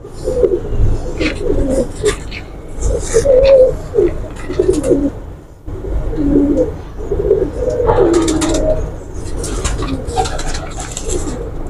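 A female pigeon coos up close in repeated rolling bursts, with a brief pause midway before the cooing resumes, loud and clear with faint background noise.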